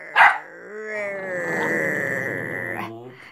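A border terrier produces a long, steady growl on command, following a brief sharper vocal burst at the start, close and fairly loud with no speech over it.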